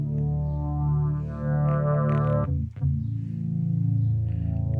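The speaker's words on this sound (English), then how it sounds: "this is the original pad I'm using." Nu:Tekt synthesizer playing a horror-soundtrack style pad, a sustained harmonically rich chord that shifts pitch and swells with a brief dip partway through, loud and alone with no voices.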